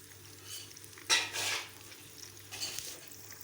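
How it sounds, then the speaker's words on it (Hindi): Zinger burger chicken fried in a pan over a low flame: a quiet, steady sizzle with a couple of brief louder bursts of stirring or pan contact and no talking. "हल्की आंच पे हमारे ये जिंगर जो है ये फ्राई हो रहा है"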